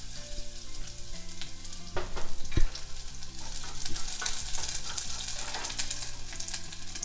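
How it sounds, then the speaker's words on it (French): Shallots and crushed garlic sweat in olive oil for a pepper coulis, giving a lively, continuous sizzle with stirring scrapes and clinks, close and fairly loud, over a faint background hum. "On fait suer nos échalotes, notre ail écrasé."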